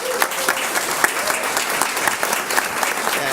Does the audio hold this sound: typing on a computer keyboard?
no